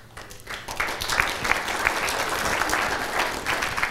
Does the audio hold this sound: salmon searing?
no